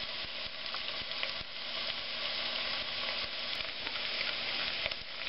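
Potatoes frying with bacon and onions in a pan give a loud, dense, continuous sizzle with faint crackles, steady throughout and with no voices.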